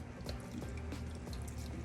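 Chicken broth pours into a pan on a stove, a steady wet splashing and trickling stream that runs the whole time, close by and fairly loud, with no talk.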